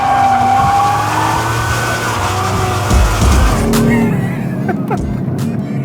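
Sports car, a 2015 BMW M4 or Lexus RC F, cornering hard on track: a loud close engine note with a sustained squeal and skid of tires, the engine easing off toward the end, with some speech in the background.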